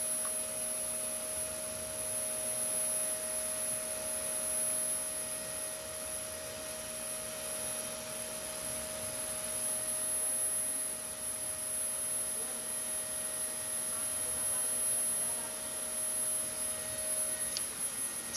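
A gas turbine runs steadily at 2500 RPM under a constant 5-pound load, giving a continuous, even mechanical hum and whine with fixed tones and no change in level throughout.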